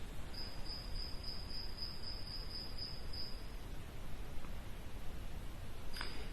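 A single cricket chirps steadily in a quiet room, its bright pulsing trill running for about three seconds over soft background hiss before stopping, followed by a brief faint click.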